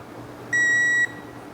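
A digital torque wrench gives a single clear electronic beep, about half a second long, while a cylinder head bolt is tightened on an AMG M156 engine, over a quiet background hum.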